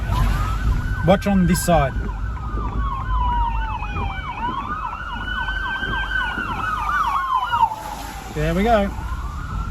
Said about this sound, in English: I am not going to try to get in the way of a fire truck